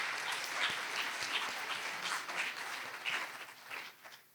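An audience at a Walter Sisulu University memorial lecture ceremony applauds, a continuous patter of many hands clapping at a moderate distance, fairly soft and fading toward the end.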